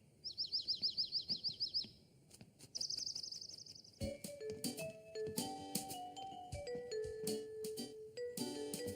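Two quick bursts of rapid cartoon bird chirping at the start of a Caillou children's cartoon, followed by bright chiming musical notes.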